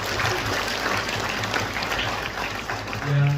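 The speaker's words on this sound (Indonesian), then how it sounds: "Tepuk tangan untuk Kabupaten Diai." Crowd applause for Kabupaten Deiyai at the opening ceremony of PROSENI IV in Onago, Tigi Barat district, a dense sustained clapping from a large gathering that swells slightly near the end, with a faint tone intruding at the close.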